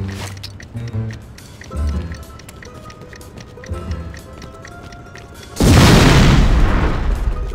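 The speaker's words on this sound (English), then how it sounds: "It's gonna explode!" A loud explosion bursts in The Godfather II on PC, a sudden broad blast that rumbles on for a couple of seconds after quieter thumps, footsteps and game sounds.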